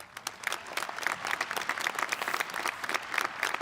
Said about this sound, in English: Round of applause for CCP.